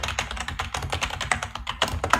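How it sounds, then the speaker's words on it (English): Fast, loud typing on a computer keyboard, with rapid irregular clacks of keys struck close to the microphone in a dense, uneven rhythm. "Loud typing."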